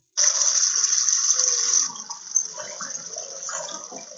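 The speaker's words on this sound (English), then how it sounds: "It sounds like running water." Steady broadband rush of a flowing stream beside a mountain dirt path, loud and continuous at first, then easing into a softer, uneven babble with small splashes.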